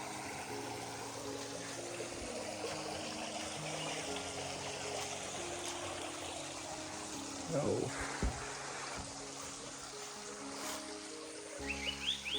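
Natural mountain water flows steadily into a pool outdoors, a soft continuous rushing trickle at moderate distance with faint voices and a few brief knocks near the end.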